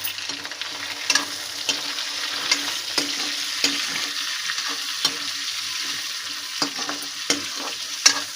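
Vegetables, okra among them, frying in oil in a pan on a home stove, a steady broadband sizzle with regular sharp scrapes and clicks of stirring throughout, close and fairly loud, no voices.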